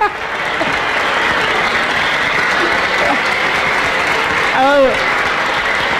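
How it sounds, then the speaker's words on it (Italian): Dense audience applause fills a live variety show stage, steady and close throughout, with a brief whistle-like cheer rising near the end. "gli applausi sono fitti"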